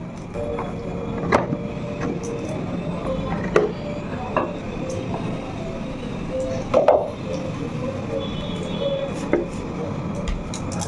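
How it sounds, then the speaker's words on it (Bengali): Knife chopping cucumber and onion for a salad in a home kitchen, a quiet series of irregular taps on a board spread through the clip against a steady background hum. "একটু শসা আর পেঁয়াজ কেটে স্যালাডের মতো করে দিলাম"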